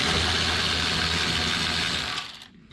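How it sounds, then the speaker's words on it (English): A Milwaukee cordless electric ratchet fitted with a wobble bar runs alone for about two and a half seconds, giving a close, steady mechanical whir with a ratcheting buzz that cuts off sharply at the end. "this electric ratchet is from Milwaukee"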